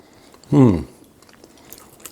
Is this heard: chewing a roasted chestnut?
yes